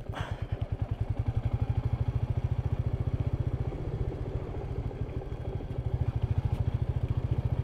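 Royal Enfield Meteor 350 motorcycle riding off-road, a close, loud single-cylinder engine thumping in a rapid, even pulse that dips slightly midway and then swells again.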